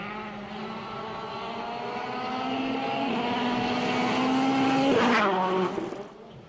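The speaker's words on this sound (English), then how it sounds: "It's amazing what 300 brake horsepower on a World Rally car will do." A 300 brake horsepower World Rally car drives a muddy gravel stage at Rally New Zealand. The engine note climbs steadily as it builds speed, then comes a sharp gear-change burst and a quick fade as the car pulls away.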